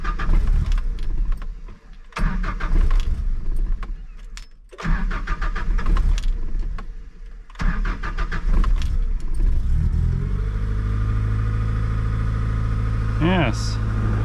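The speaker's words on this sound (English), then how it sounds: "All right, start to crank up." Car engine on wood gas with the gasoline fully off, cranked by the starter in repeated bursts with short pauses before it catches and settles into a steady idle, heard up close with the hood open.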